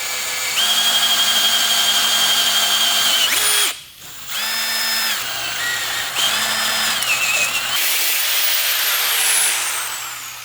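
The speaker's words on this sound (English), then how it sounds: "I gotta cut a slot and drill 2 holes" A power drill bores holes in an aluminum bracket, whining loudly and close in several sustained runs, its motor pitch rising and falling with brief pauses between bursts.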